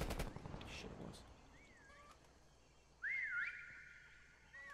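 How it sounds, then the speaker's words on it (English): A player's whistle in a prop hunt video game gives rising and falling chirpy tones, with a brief clatter of gunfire at the start and a louder sustained warbling whistle near the end. "just so they don't hear two whistles right next to each other"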